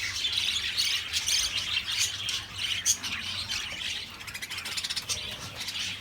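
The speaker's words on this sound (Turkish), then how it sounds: "muhabbet kuşlarımı tek tek gösterelim sizlere." A chorus of budgerigars chirping and chattering continuously at a bird seller's, bright rapid tweets overlapping with a steady low hum in the background.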